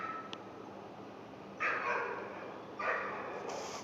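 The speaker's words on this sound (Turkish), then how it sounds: "Burada bir köpek daha var." Two separate barks from a dog close by, spaced about a second apart, against a quiet, hissy background.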